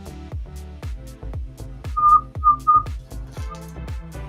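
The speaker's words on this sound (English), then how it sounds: "Little bit of a whistle there." A whistle from hot glass during glassblowing of Christmas ornaments, a thin pitched tone that sounds in three short bursts and once more faintly, over a run of sharp, repeated tapping sounds.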